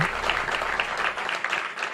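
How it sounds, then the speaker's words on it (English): A small audience claps for two seconds, giving a thin, scattered patter of individual hand claps at close range with no voices. "that sounded like 5 people clapping"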